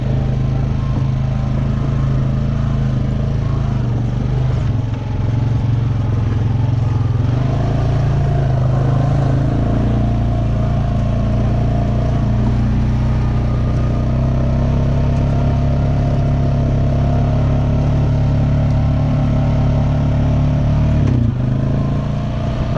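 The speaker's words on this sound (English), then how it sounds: "So this is where you really need to stay on the four-wheeler." A four-wheeler ATV engine drones steadily while riding, a loud close rumble at an even, moderate throttle with slight pitch shifts and rattling, running unbroken throughout.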